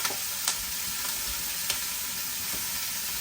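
Vegetables for a pot roast sizzle steadily in rendered fat at the bottom of the pot, a continuous close hiss broken by a few sharp crackles and pops.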